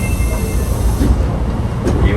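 An Osaka Metro Sennichimae Line train runs along the track, heard from inside the car as a loud, steady rumble and hiss that continues without a break.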